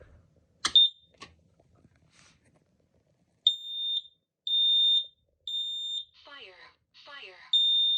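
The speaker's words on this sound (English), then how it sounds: "this is just a Kidde KN-COSMB combination smoking carbon monoxide alarm" A Kidde KN-COSMB combination smoke and carbon monoxide alarm sounds close and loud in a series of sharp, high-pitched electronic beeps, with a spoken voice warning from the unit between them and a brief knock early on.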